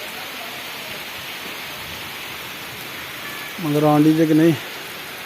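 Heavy rain falls in a Punjab village in Pakistan, a dense steady hiss throughout, with a man's brief speech breaking in near the end.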